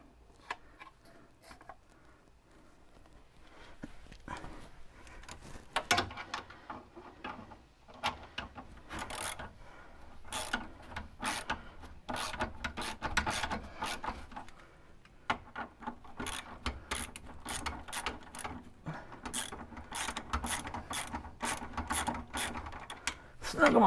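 A wrench snugs up bolts on the rear beam of an 87 Merkur XR4Ti, giving quiet irregular ratcheting clicks and metallic scrapes that grow busier and denser toward the end, with short pauses in between.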